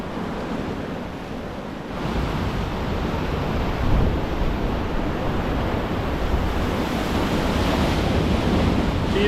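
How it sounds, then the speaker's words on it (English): Wild ocean surf pounds against a rock fishing ledge on the south coast, a loud continuous roar that swells slightly midway, mixed with heavy wind buffeting the microphone and no voices. "It's a wild ocean here today."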